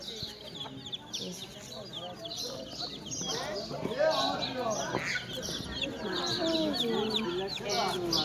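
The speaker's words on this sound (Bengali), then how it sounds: "এই একটা বড় মুরগি।" Several chickens cluck and squawk continuously at close range at a market in Satjelia, a busy overlapping chatter of birds throughout.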